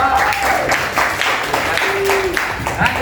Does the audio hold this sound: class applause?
yes